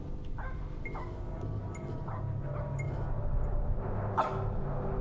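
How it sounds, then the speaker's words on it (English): A dog in a horror video game barks repeatedly in a loose rhythm, several short, fairly faint yelps spaced across the stretch over a low, steady background rumble. "the dog is barking"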